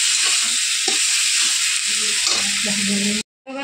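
Potato mixture for aloo chop is stirred in a hot wok, a steady close sizzle with scraping strokes running for about three seconds before cutting to brief silence and a short return of the frying hiss.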